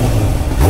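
A Kawasaki Ninja H2 motorcycle engine revving up close and loud, a short burst of rough mid-range engine roar rising in pitch at the end.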